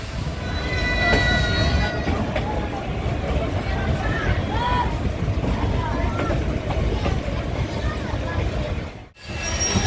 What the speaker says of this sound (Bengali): ট্রেনটা ছেড়ে দিল আমাদের